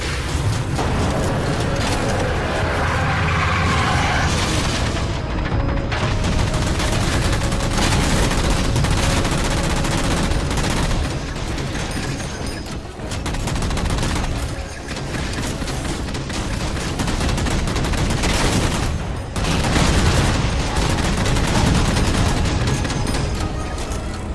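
Dense, sustained gunfire in a Halo 4 battle as jammers are shot down, loud continuous bursts and booms layered together with barely any pause.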